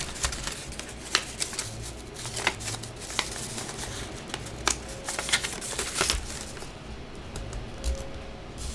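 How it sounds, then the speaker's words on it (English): Kraft paper being folded and creased by hand into a bag, with steady close crinkling, rustling and small sharp snaps running throughout. "All I must do is fold it in a little more."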